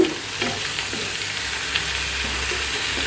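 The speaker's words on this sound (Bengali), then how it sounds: "সেটা ভাজি করব তাই প্যালের ভিতরে পেঁয়াজটা ভালো করে লাল করে নিলাম তা এখন আমি এই যে দিয়ে দিব কাটা আলু পটল" Cut potatoes and pointed gourd go into a pan of browned onion and fry, making a loud close sizzle with faint stirring scrapes. The hiss holds steady and no one speaks.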